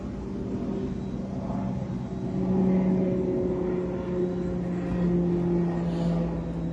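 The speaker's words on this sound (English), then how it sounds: "Unmarked military planes are what, by the way?" A low, steady engine drone of an unmarked military plane passing overhead, swelling slightly and holding at a moderate, distant loudness throughout.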